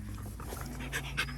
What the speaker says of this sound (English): Look at you, tailless dog.